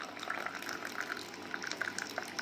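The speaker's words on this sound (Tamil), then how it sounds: "இப்போ வடிகட்டிடுவோம்ப்பா." Herbal cold remedy water poured through a strainer, a quiet steady trickle and splash of liquid with faint bubbly gurgles throughout, close and soft.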